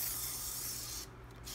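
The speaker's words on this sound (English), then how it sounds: "You have to pump it in order to get it to spray the oil." A steady, close hiss of a pump cooking oil spray runs continuously, then drops off abruptly near the end.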